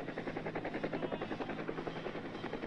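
A military helicopter in the Vietnam War flies steadily and loudly nearby, its rotor blades chopping in a fast, even rhythm over the turbine whine throughout.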